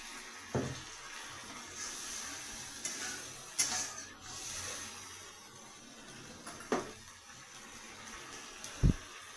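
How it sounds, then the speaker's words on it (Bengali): Spice water ground in a mixer is poured onto onions frying in a pan for a fish curry, giving a steady close sizzle broken by a few sharp splashes and clinks, with no talk. "পেঁয়াজটা একটু ভাজা ভাজা হতে থাক। আমি একটু এই যে মিক্সিতে যে বেটেছি ওই জলটা দিয়ে দিলাম।"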